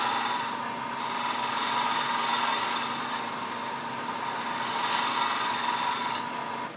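Texturing tool pressed hard against spinning turned wood on a lathe, cutting texture with a steady, continuous rasping buzz that stays loud and close throughout, with no talking.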